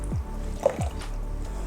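Water drips and splashes in short separate bursts while a baby is bathed under running water, close and moderately loud against a steady background of flowing water.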